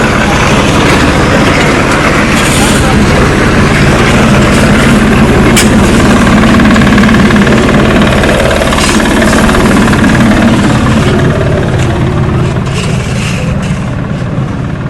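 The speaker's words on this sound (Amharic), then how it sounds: "ከዚህ በዚህ ጄኔሬተር አማካኝነት ውሃው ተስቦ ይወጣና" A generator-driven water pump at an irrigation dam runs loud and close, a continuous rough mechanical drone with rapid knocking pulses, steady throughout with no voices.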